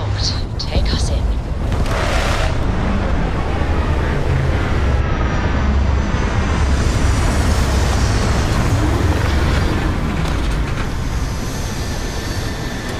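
A spaceship comes in to land in the video game Starfield with a loud, continuous engine roar and rumble that swells and shifts throughout, while voices talk over it.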